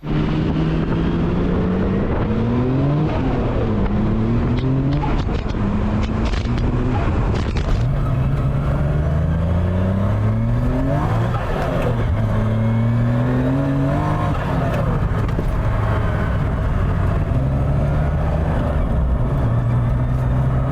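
A Nissan Skyline R32 GTS-4 four-door drives along, its engine note rising and falling through repeated revs and gear changes, steady and loud inside the cabin throughout.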